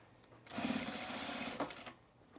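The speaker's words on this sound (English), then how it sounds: "I do sew the collar to the inside of the garment first," A sewing machine stitches a collar onto a button-down shirt in one steady burst of about a second, with a soft rhythmic hum between quieter handling rustles before and after, and no talk.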